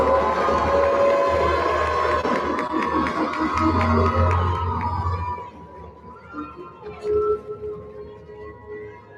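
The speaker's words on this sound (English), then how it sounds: "Let's give them another round of applause for our oratory finalists." Audience cheering and clapping for oratory finalists at a debate final, a crowd roar with whoops and claps that dies away midway, leaving scattered voices and noise.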